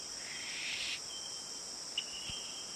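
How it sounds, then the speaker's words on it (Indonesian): Crickets chirp steadily in a forest, a continuous high shrill buzz close by with a brief faint extra chirp partway through, heard alone without talk. "Ada suara jangkrik."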